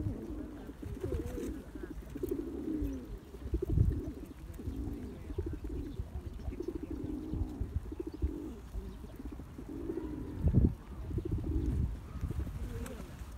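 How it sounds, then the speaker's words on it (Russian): Pigeons feeding on seeds, peas and pearl barley coo repeatedly in low, rolling phrases close by, several birds overlapping in a loose rhythm with occasional louder bursts and faint background rustle. "Ну, я обожаю, когда они воркуют."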